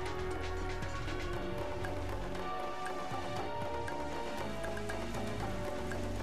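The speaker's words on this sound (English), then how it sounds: "Oh, it's raining." Rain falling in the side-scrolling action game Muramasa Rebirth on PlayStation Vita, a dense continuous patter mixed with steady game music and occasional sharp ticks, loud and unbroken throughout.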